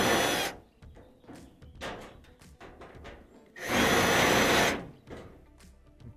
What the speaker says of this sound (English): Okay, I'm going to remove that screw there.